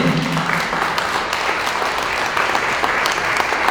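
A church congregation applauds together during a Sunday sermon, producing a steady, dense wash of clapping that stays fairly loud and even for several seconds.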